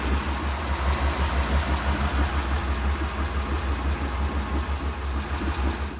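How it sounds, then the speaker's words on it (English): A classic Porsche 911 engine idles steadily after an oil change, a continuous low rumble with a faint rhythmic knock, close and loud with no talking. "check the oil level while the engine's running"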